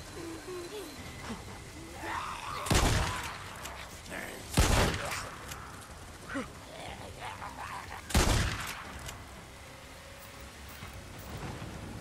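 Three heavy booming shotgun blasts spaced a few seconds apart in Days Gone, loud over a quiet, rain-like outdoor ambience with faint background noise.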